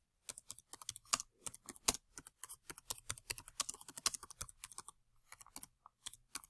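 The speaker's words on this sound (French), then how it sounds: "Donc je vais taper mon texte." Rapid typing on a computer keyboard, close and crisp, with bursts of quick key clicks separated by short pauses and no speech.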